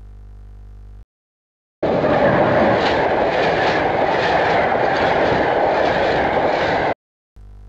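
A passenger train rushes past on the Fălticeni–Bacău line in Romania, a loud, close roar with rhythmic wheel clatter lasting about five seconds, framed by quieter moments before and after.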